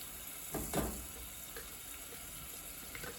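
Water hits hot smoking oil in a pot, giving a couple of quick hissing bursts near the start that fade into a soft, low sizzle with faint pops.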